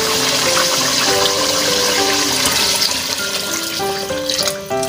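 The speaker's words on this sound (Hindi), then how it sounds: "लेकिन अभी पहले हम इसके अंदर आप पानी डालेंगे।" Water gushes steadily into a pressure cooker holding nihari meat, a loud continuous splashing pour close by that eases slightly near the end, with no one speaking.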